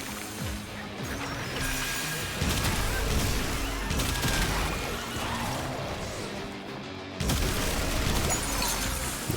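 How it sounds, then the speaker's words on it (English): In a video game, a glass-shattering crash marks pheromone glands being dropped, heard amid a dense run of gunfire-like bursts and crashes that repeat in loud, irregular clusters with no speech. "Whenever you hear that glass shattering noise, that means that they dropped the pheromone, the glands, whatever they're calling it."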